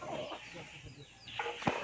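Native chickens give soft, scattered clucks close by against a quiet farmyard background, with a couple of sharper calls near the end.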